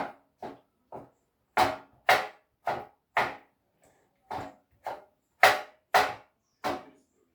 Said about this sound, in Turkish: ince ince doğruyorum.